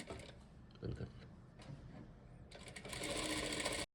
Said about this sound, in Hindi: फुट को थोड़ा सा उठाता है ऐसे और सिलते जाना है, लगातार सिलते जाए।